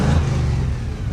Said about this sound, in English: that sounds like a car that could get out of hand quick